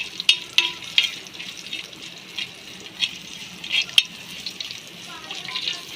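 Hot tempering (phodni) for amsul dal sizzling in a small pan, a faint crackle with sharp spattering pops at intervals, heard up close without talk.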